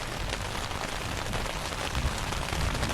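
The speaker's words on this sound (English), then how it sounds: "it is raining pretty darn good at the moment" Steady, dense rain patters on a tent close by, a constant wash of drops with no voices, slightly heavier toward the end, at night.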